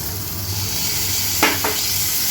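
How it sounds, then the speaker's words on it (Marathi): Onion and tomato fry in a pan, a loud continuous sizzle with a couple of quick spatula scrapes near the end, close and without talk. "तर हे थोडंसं फ्राय करून घ्यायचं"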